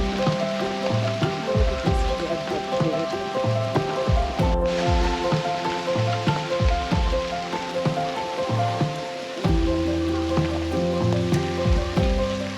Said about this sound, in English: It's a little spooky in the rain.